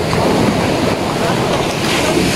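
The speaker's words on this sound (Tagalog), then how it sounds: "Laki ng mga alon" Large ocean waves crash and churn in a loud, continuous roar, with wind buffeting the microphone and a low rumble from the sea.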